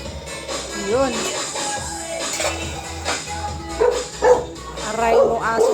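A dog in a home kitchen gives short yips and barks, sharper bursts clustering toward the end, under ongoing talk and household background noise.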